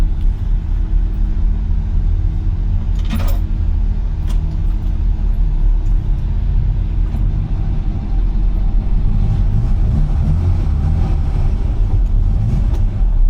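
An old carburetor car engine, likely flooded, idles roughly nearby, a continuous low rumble with slight unevenness and a brief rattle partway through.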